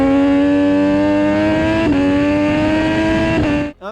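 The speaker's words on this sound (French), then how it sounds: "un moteur 3 cylindres en ligne très pistoni qui sort 147 chevaux" A Kawasaki ZX6R sport motorcycle with a 147-horsepower inline three-cylinder engine holds a loud, steady, buzzing high-rev drone, with two brief pitch blips, then cuts off abruptly at the end.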